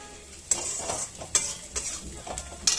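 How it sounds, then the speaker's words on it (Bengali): Spice paste frying in oil until the oil separates, a continuous close sizzle punctuated by several sharp metallic scrapes of a spoon stirring the pan. "দেখো মশলাটা ভাজা ভাজা হয়ে আসছে, হয়ে গেছে, তেল ছেড়ে দিয়েছে মশলাটা"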